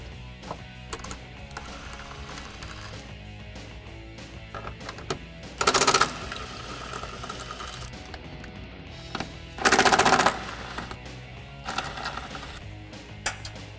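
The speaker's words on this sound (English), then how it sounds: "I'm using a 13mm deep socket and an impact wrench to get those off" An impact wrench spins 13mm bolts off the full-length side step of a 2018 four-door Jeep Wrangler JL, giving two short, loud rattling bursts over quieter garage clatter and ticking.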